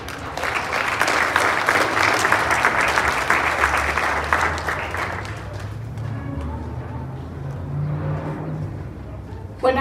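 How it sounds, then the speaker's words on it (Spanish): Applause from an audience at a school ceremony for a new roof at a secondary school in Valle de Chalco, strong clapping for about five seconds that fades into a low rumble and murmur. "Recibámosla con un fuerte aplauso."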